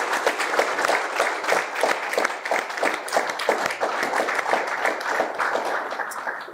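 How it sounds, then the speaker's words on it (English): An audience applauds graduates of the SolBridge spring graduation ceremony, a steady patter of many hands clapping continuously at moderate level throughout. "Another round of applause."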